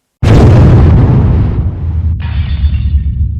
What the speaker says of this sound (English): A large explosion was heard by local people, followed by an earth tremor.